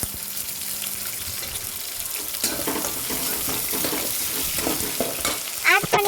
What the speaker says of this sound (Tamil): இப்போ நம்ம இது கூட கட் பண்ணி வச்சுருந்த வெங்காயம் எல்லாமே சேர்த்துக்கலாம்.